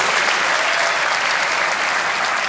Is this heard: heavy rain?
no